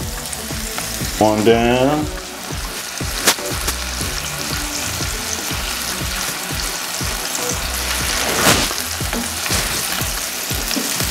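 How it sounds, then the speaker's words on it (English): A buttered burger bun laid on a hot grill sizzles steadily up close, with scraping and tapping of a spatula and a brief spoken remark early on. "lay this on the good butter on the grill, stick it on there"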